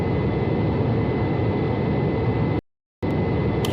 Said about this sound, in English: Clear for takeoff runway 17.